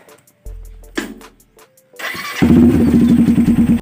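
A Suzuki TU 250cc motorcycle built as a scrambler is cranked with a few starter bursts, then catches and settles into a close, loud, pulsing single-cylinder idle.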